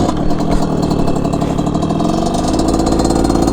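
Derbi moped engine running loud and close, a steady buzzing two-stroke drone with a rapid even pulse that holds throughout, slightly rising in pitch near the end, no speech.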